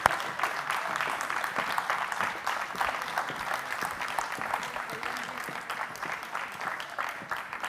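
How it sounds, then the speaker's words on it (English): Steady audience applause at a social innovation pitching competition in Lisbon, dense and continuous clapping from a crowd greeting the winners, holding at an even level throughout with no break. "Applause for them."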